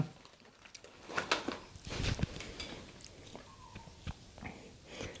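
Crunchy bites into an oval Roller Coaster snack with Ghost Pepper seasoning, a few crisp crunches and chewing sounds close up, with no speech.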